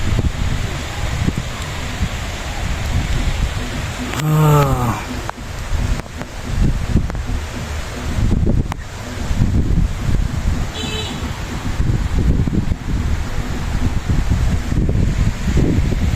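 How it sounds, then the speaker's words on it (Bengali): Steady rain with gusting wind on a rainy day, a continuous broadband wash of noise throughout, with a brief chirp-like sound partway through and no talking. "বৃষ্টিটা খুব ভালো লাগছে না মা?"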